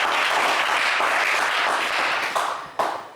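A television game show studio audience applauds a team, loud continuous clapping that dips and then surges again in a final burst.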